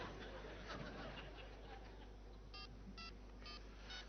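Four short mobile phone keypad tones beep at a quick, even pace near the end, following quiet background murmur and soft laughter.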